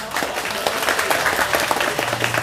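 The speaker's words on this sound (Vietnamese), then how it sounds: "Mọi người cho một tràng pháo tay ạ." Audience applause at a gathering of reptile keepers, a steady dense wash of clapping hands filling the room throughout, fairly loud and close.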